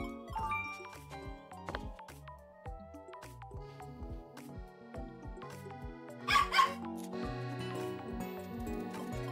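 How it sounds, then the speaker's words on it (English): Dogs barking at night, short yips and barks mixed among jingling tinkles and other clutter, fairly faint and close, with one louder burst near the end. "Everybody walks their dogs at night here."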